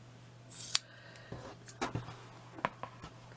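Scissors cut paper for a handmade wall plaque, giving a few crisp, close snips and slicing sounds spaced irregularly, with no talk.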